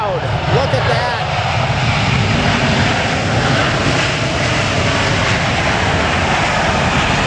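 A fixed-wing airplane passes low over a runway at LAX, a loud, continuous roar of aircraft engines filling the whole clip with broadband noise, close and overwhelming.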